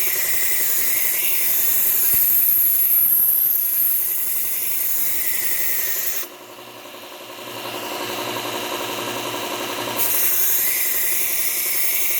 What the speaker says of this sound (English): Provided I can still get my hands in there to actually do the sharpening